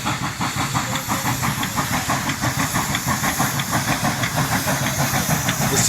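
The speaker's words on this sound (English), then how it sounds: "I think this little engine's tired. He's moving, man. He's got to get up this hill." A small steam locomotive works up a hill with loud, continuous hissing steam and a steady rhythmic chuff from the engine, close by and with no talk over it.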